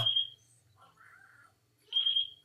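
Two short, high-pitched electronic beeps about two seconds apart from a FrSky Taranis X9D Plus radio transmitter, with a faint chirp in between against a quiet background.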